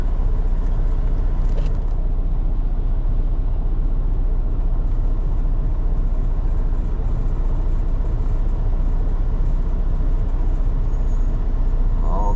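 Trucks and other vehicles rumble steadily through rush-hour road traffic near Sand Island, with a brief air-brake hiss early on. The noise forms a dense, continuous wash with no voices.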